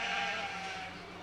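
A commercial ewe bleats once in a livestock show ring, a single sustained nasal call at moderate distance, gradually tapering off.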